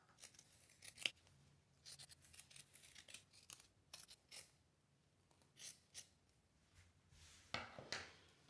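Scissors snip through fabric while a sewing garment's seam allowance is trimmed near a zipper to reduce bulk: a series of separate short, crisp cuts spread across several seconds, close and fairly quiet, with no talk.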